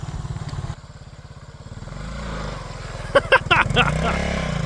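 An old Honda enduro motorcycle engine runs close by with a steady low throb, rising and falling in pitch as it revs, a few sharp clacks near the end, and a voice speaking over it.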